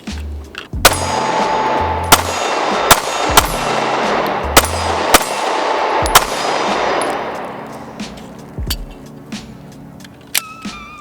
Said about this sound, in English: so that was about 15 yards and all 8 shots on target